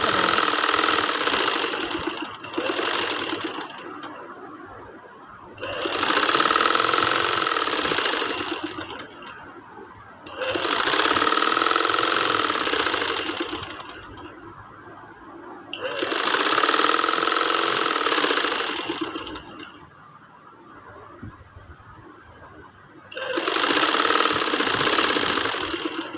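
A sewing machine stitching invisible lace onto fabric runs in four loud, steady bursts of rapid mechanical whirring lasting several seconds each, with brief pauses between runs and no talk.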